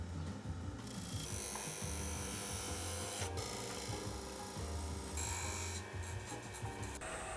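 Woodturning lathe running continuously while a 5mm parting tool cuts tenons on the ends of a wooden box blank, a steady dense mechanical whir with scraping, ratchety cutting noise throughout and brief bright bursts, close and loud.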